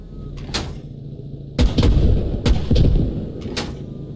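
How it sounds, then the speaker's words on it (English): Gunfire in a military video game, several sharp broadband shots and booming impacts spaced irregularly over a steady low background rumble, some close and loud, others lighter and farther off. "Now we're getting shot by something"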